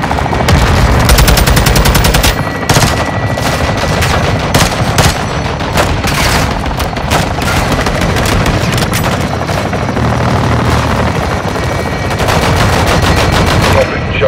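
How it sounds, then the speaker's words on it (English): Sustained machine gun fire from a Call of Duty gun run, loud and continuous for the whole stretch, with rapid bursts layered over a heavy rumbling aircraft drone and occasional booms. "Weapons hot for gun run."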